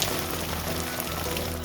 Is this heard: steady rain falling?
yes